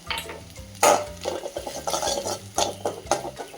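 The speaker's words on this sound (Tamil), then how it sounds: "சிம்மில் வச்சு ஃப்ரை பண்ணணும் இல்லைன்னா கருகி போயிடும்" Coriander powder fried with coconut in a pan, a spoon scraping and clinking against the metal in quick, uneven strokes over a soft sizzle, close up and alone.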